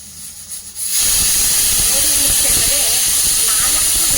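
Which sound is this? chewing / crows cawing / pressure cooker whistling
pressure cooker whistling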